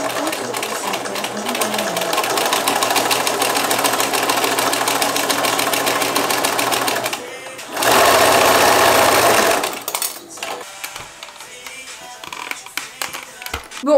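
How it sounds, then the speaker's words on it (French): A sewing machine runs in long steady bursts while stitching a large second-hand skirt being remade into a modern one, with a loud continuous whir that pauses briefly and then trails off into quieter handling noises. "je vais coudre tout ça à la machine"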